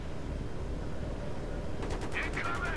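Gunfire in Battlefield 3 during the co-op jungle mission in Vietnam, with steady bursts rumbling under a dense battle backdrop while voices talk over it.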